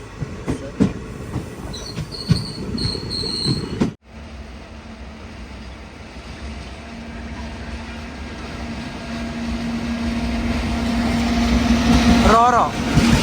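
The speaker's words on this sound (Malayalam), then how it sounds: "ഇങ്ങനെയാണ് ട്രെയിനിൽ ലോറി കയറ്റി കൊണ്ടുപോവുക." Ro-Ro freight train loaded with lorries rumbles past a station after rain, a steady, close rolling roar that swells toward the end with a brief metallic wheel squeal. Voices can be heard in the early part.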